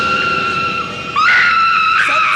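A woman screams in panic in a TV pilot scene, one sustained high shriek that jumps louder and sharper midway and carries on to the end, loud and close with no talk.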